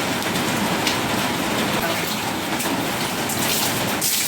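Steady rain hissing down continuously, a dense wash of drops pattering on a surface at close range with no pauses.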